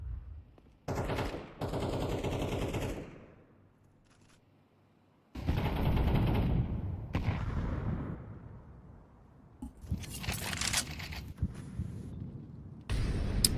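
SMG gunfire in a Rainbow Six Siege style pro league match fills the scene: loud bursts of automatic fire come in several separate volleys with short gaps between them, and nobody speaks.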